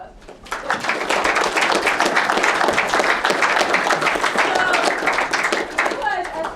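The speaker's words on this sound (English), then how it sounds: "Let's give them another round of applause." Audience at a campus class session breaks into loud, dense clapping that starts abruptly and holds steady for several seconds before tapering off.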